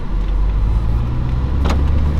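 Honda Civic Si fitted with an HKS exhaust makes a quick flyby on a city street, its steady low engine drone running throughout with a brief louder swell near the end as it passes.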